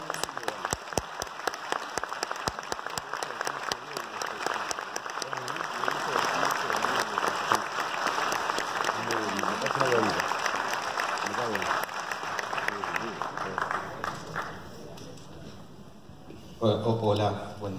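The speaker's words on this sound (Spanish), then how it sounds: "para quienes pido un fuerte aplauso y los invito" A film festival audience applauds the screenwriter and lead actor at a screening presentation, with sustained clapping for most of the stretch and voices mixing in before someone speaks near the end.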